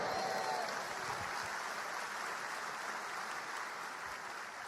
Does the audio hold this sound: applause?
yes